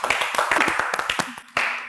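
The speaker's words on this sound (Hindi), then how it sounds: "एक और बार तालियां हो जाएं इस बात पर" A studio audience on a Pakistani current-affairs talk show claps in a burst of sharp, quick hand claps lasting about two seconds, fairly close and lively, with a brief lull before a final flurry.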